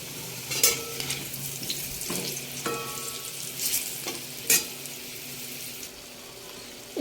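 Goat meat sizzles steadily in a pan over high heat while being braised for a red curry, with a few sharper spatula scrapes and clinks against the metal over a constant frying hiss.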